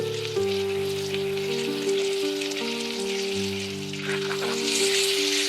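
Beef chow fun with green onions tossed in a very hot wok gives a steady hissing sizzle, heard under sustained musical tones throughout.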